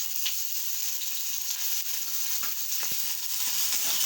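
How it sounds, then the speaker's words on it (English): Ginger dropped into hot oil in a pan fries with a continuous bright sizzle, close and steady, with a few faint taps of stirring underneath. "So after adding oil, we will put ginger in it."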